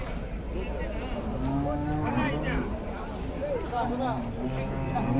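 Cows, including HF and Jersey breeds, moo repeatedly at a cattle market in Palamaner, long drawn-out lows overlapping each other, with people talking nearby.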